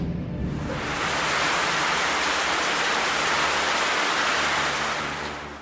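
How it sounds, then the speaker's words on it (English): Heavy rain pouring down in a storm at sea, a dense broadband roar that swells in, holds loud and steady, then fades away, with no voices. "Rain poured down."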